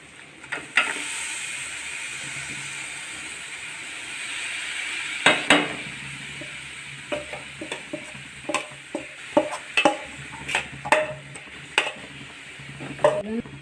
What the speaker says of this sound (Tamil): இப்போ நம்ம வதக்கி விட்டுக்கலாம்.